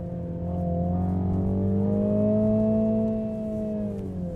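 A JCW Mini Countryman engine revs in one sustained, loud drone whose pitch climbs gradually and then holds steady, with no talking over it.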